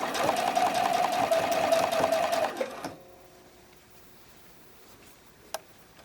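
Domestic sewing machine stitching fabric bralette cradles, a fast steady whirr for about two and a half seconds that then stops, followed by near silence and a single small click.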